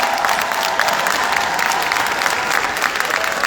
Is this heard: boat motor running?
no